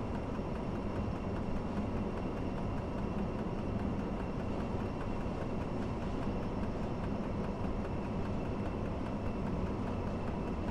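A BB 67400 diesel locomotive hauling the Intercité night train from Paris to Aurillac in Train Simulator Classic, a steady loud rumble of engine and rolling wheels without a break, no voices.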